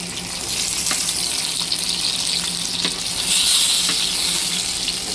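Koi fish fry in hot oil, giving a loud, continuous close-up crackling sizzle with faint clicks from time to time and a brief swell in intensity partway through.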